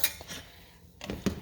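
Metal utensil scraping and clinking against a pan while seasoning is stirred into about a pound of cooked ground meat for taco pizza, a few short close clatters with a quiet pause between.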